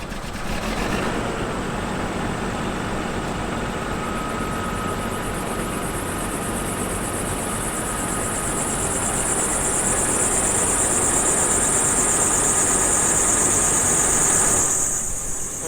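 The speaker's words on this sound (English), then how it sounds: "the sound of a squealy belt doesn't help the smell" Idling diesel farm engine with a squealing belt on a cool harvest morning, giving a steady rumbling drone under a continuous high-pitched squeal that runs through the whole stretch before cutting off near the end.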